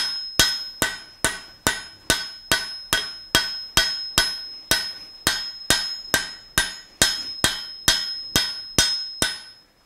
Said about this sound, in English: notice how my hammer's striking